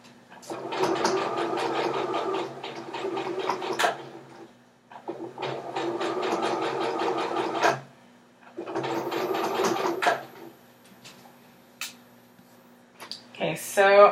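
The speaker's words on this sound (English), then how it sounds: "I'm just going to keep sewing until I come to my double red pins" A sewing machine stitches an elastic waistband casing in three steady bursts of rapid, close needle chatter, separated by brief pauses, with a steady motor hum under a voice talking.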